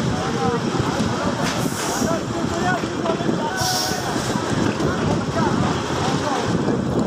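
A Narayanganj DEMU train picks up speed, its wheels rumbling and rattling steadily under gusty wind noise, with indistinct voices in the background.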